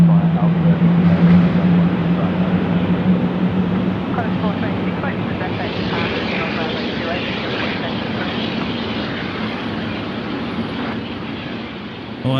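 Jet engines of an airliner on the ground at Melbourne airport, including an A380 being pushed back, roar loudly and steadily, the tone rising as an engine spools up, with people talking over the noise.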